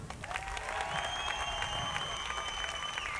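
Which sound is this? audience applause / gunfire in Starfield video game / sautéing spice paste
audience applause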